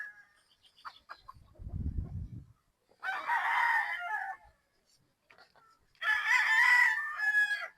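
A three-year-old Boston Black gamecock rooster crows twice nearby, each call a loud drawn-out cock-a-doodle-doo, with a short low grunt or flutter before the first and quiet gaps between.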